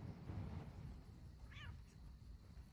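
A single short cat meow in the video game Elder Scrolls Online rises briefly over a low, quiet rumbling background.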